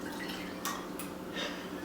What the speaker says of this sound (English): Now, we're going to pour this in.